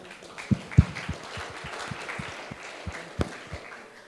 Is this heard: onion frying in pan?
no